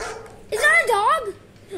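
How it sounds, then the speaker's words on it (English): A dog whimpers and yips in a couple of short, high, wavering vocal bursts, fairly close and loud against a quiet room, followed by a brief fainter yelp. "Is that a dog?"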